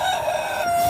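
A chicken in a coop gives a short, clear crow, a single bright call close by with no talk over it.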